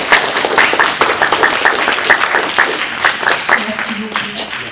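Audience applause at a film premiere screening, close, dense clapping with audible individual claps and a few voices mixed in, tapering slightly toward the end.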